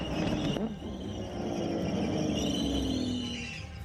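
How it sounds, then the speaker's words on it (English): Squeaky car brakes give a long, thin, whining squeal that rises and then slowly falls across a few seconds over a low rumble of road and engine noise, with no voices. "That's the brakes. They are quite squeaky."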